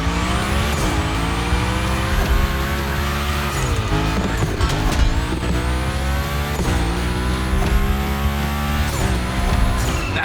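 A car slides through a drift in The Crew Motorfest, engine roaring loud and close with long continuous tire squeal and rising-falling revs across the whole stretch.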